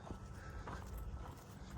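A horse wearing a fly guard is faintly audible nearby with soft hoof clops and a quiet snort over low rumbling background noise.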